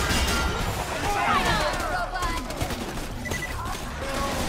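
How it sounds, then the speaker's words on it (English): Railgun fire in the video game Borderlands 2, a dense burst of sharp electric shots and crackling impacts over busy game noise, loud and close, with a few whistling zaps sliding through the middle. "I love railgun."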